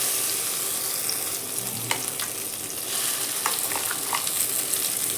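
Ground okra thogayal paste stir-fried in oil for a South Indian side dish, with a steady close sizzle and scattered spatula scrapes throughout.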